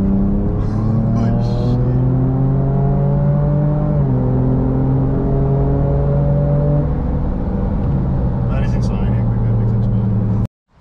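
A Gen 2 Ford Ranger Raptor accelerates hard in sport mode, its engine pitch climbing steadily through gear changes, loud and close from inside the cabin, with a voice talking briefly before the sound cuts off abruptly.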